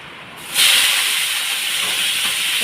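Washed potatoes drop into hot oil with dry chilli, bay leaf and five-spice, bursting into a loud, sudden hiss that holds as a steady, bright sizzle close by.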